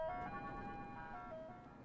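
An ice cream truck plays its tinkly melodic jingle, a thin repeating tune heard faintly from a distance on a residential street, with no voices.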